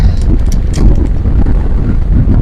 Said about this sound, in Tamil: நல்லா காத்து இருக்கும்.